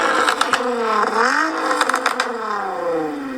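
A car engine with a new tune chip revs and rises in pitch, with sharp crackling pops from the exhaust scattered through the run, loud and close.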